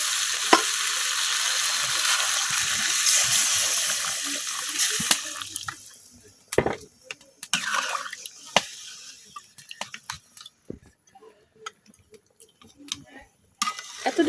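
Liquid poured into a pot of country duck curry with potatoes cooking on a village stove, giving a strong sizzle and bubbling that fades into scattered clinks, drips and stirring noises.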